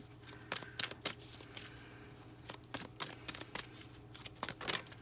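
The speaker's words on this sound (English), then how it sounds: "I'm just throwing cards everywhere." Tarot cards are shuffled and handled in a quiet room, with bursts of crisp riffling and soft slaps, sharp clicks coming in irregular clusters, close by.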